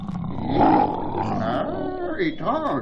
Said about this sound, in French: C'est la première fois que j'entends un chien rugir.